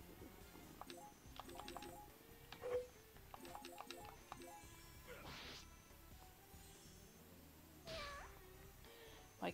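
A domestic cat meows several times, quietly and in short bursts, with a couple of clattering knocks in a soft indoor room.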